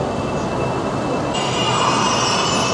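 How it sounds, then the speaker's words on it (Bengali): A Chinese semi-high-speed train pulls into a station with a steady rumble and broad rolling hiss, close and continuous, a faint high whine running through it. "এই ট্রেনটা ঢুকলো এখন, চায়নার বুলেট ট্রেন।"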